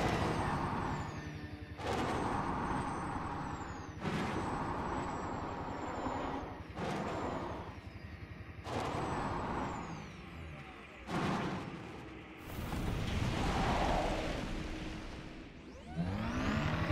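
Air brake hisses from a vehicle's handbrake being set, several sharp bursts of release recurring every two seconds or so over a loud, rumbling engine in a frozen, hostile wasteland.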